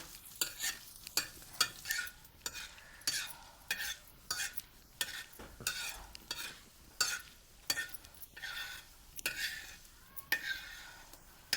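Lentils fry in oil in a pan over a wood-fired stove, with repeated scraping stirs of a utensil against the pan over a light sizzle, close and rhythmic throughout.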